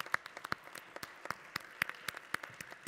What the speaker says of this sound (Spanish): Un aplauso para el doctor Betancourt, por favor.